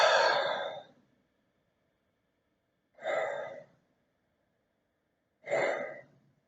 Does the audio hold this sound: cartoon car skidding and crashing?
no